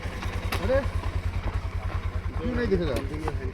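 Motorcycle idling close by with a rapid, even thump, while people talk over it.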